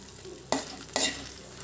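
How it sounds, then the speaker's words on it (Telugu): Ingredients dry-roast in a kadai, two quick scraping stirs cutting through a soft, constant background sizzle. "కలుపుకుంటూ మాడకుండా వేయించుకోవాలి."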